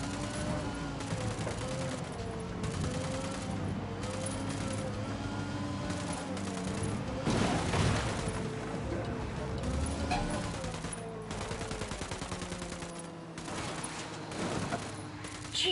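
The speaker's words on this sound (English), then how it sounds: "Opening fire on these fuckers." Gunfire from a firefight in the video game Ghost Recon Wildlands, sustained volleys of shots running through the whole stretch over a busy game soundscape, with voices speaking over parts of it.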